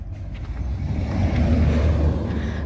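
A car drives past in thick morning fog, its low engine rumble swelling steadily and staying loud and near across the stretch, with no voices over it.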